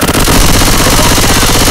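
Loud, rapid gunfire from Left 4 Dead 2 rattles continuously in a short, dense burst, filling the whole moment with close automatic shots.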